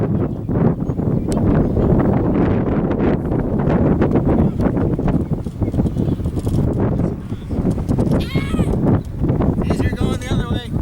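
Steady, loud wind of about 9 mph gusting to 10 buffeting the microphone on open grass in broad gusty roars, with rustling and faint voices partly audible underneath.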